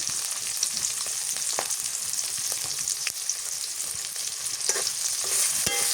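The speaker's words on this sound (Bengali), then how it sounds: "নুন দিয়ে পেঁয়াজটা মরিচ নরম করে নেব।" Onions and green chilies with salt sizzle in oil in a pan, a constant hissing fry broken by occasional sharp scrapes and taps of a stirring utensil, close-up with no voices.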